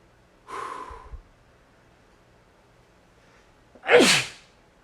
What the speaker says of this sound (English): Now we gotta sneeze.